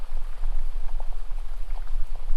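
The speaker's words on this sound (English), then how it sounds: "as you listen to the babbling water" Water babbling along a stream beside a forest path, a steady bubbling and trickling wash with scattered small splashes, close and continuous with no voices.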